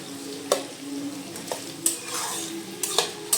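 Chicken for palav is stirred and fried in a pan, with a steady close sizzle and several sharp scrapes and clinks of a spoon against the pan at irregular intervals.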